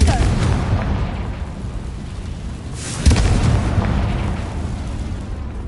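A Confringo blasting spell bursts in Hogwarts Legacy, a broad explosive boom at about three seconds rising out of a steady dense rumble that fills the whole stretch.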